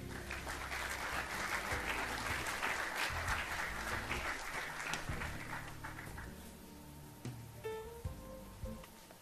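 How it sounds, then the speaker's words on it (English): Sustained applause from a seated audience at a South African utility industry event, a dense steady clatter of many hands that gradually thins and fades, with a few scattered louder claps near the end. "A round of applause, please."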